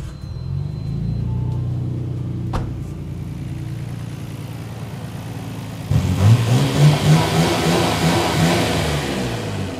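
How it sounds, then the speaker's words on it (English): A Nissan Skyline GT-R R34 with an RB26 engine cranks with a sharp click, idles with a low rumble, then fires into a louder, rougher revving roar nearby. "fire up the car one more time."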